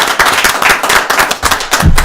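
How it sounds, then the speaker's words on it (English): Live audience applauding at a music performance event, a dense burst of close, loud clapping that fills the short moment without any voices. "Round of applause for him."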